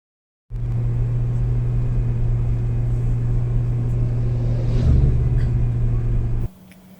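A car drives along scenic Route 3 through the hills of Nan Province in northern Thailand, a steady, loud engine and road rumble holding for about six seconds before it abruptly drops away.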